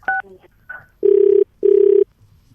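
A telephone call is being dialed: a quick keypad beep leads into two loud, even electronic ringing tones, each about half a second long and separated by a short gap.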